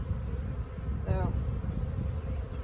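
Honey bees from a package being installed into a hive hum in a thick, continuous buzz close by, with a passing higher buzz of a single bee flying near.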